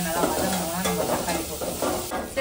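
Onions sauté in a pan, a dense continuous sizzle close up with uneven stirring scrapes rising and falling, no voices.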